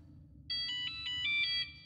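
Electronic ringtone from a flip phone in Warframe 1999, a series of bright chiming pulses roughly every fifth of a second for about a second, over a low steady game hum.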